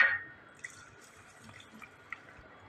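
Milk splashes and drips into a blender jar already holding apple pieces, sugar and ice cubes, starting with a brief louder pour and trailing into faint, intermittent trickles close by.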